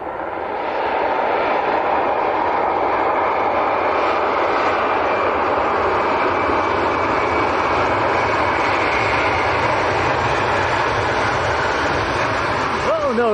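Airliner touching down late on the runway at Leeds Bradford Airport and braking hard, a steady loud roar of engines and reverse thrust that holds throughout, close by, with no talk over it.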